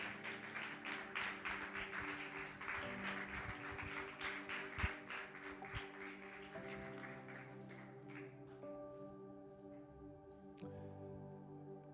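A congregation claps in rhythm during a Sunday church meeting while sustained keyboard chords play. The claps are faint and soft, then taper off as the music holds on.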